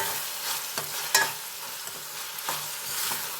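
An egg curry mixture with green chillies cooks down in a pan, softly sizzling as a spoon stirs and scrapes it in a few separate strokes, quiet and close with no talk.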